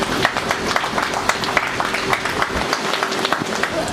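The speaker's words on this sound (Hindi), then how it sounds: "चलिए एक बार इन लोगों के लिए जोरदार तालियां।" Guests at a sangeet ceremony applaud together, a steady loud patter of many hands clapping for several seconds with faint background voices.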